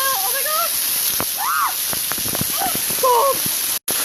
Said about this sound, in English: I'm going into this waterfall that's like right off my trail.